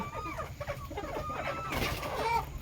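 Several chickens cluck and murmur together in a steady, low-level chatter, fairly close, over a constant background hum.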